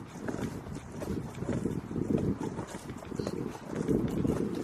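Gusty wind buffets an outdoor archery range, a steady broadband rush with swelling gusts that stays loud throughout, with no voices or other clear sounds on top.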